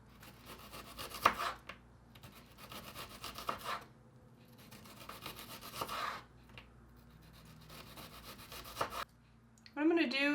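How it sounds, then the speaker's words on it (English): A knife cuts thin slices of onion for a Greek salad, giving a few soft rasping, scraping strokes in separate bursts with quiet pauses between them, close by and fairly faint. "I'm gonna cut little thin slices. I'm gonna just put them directly into the salad."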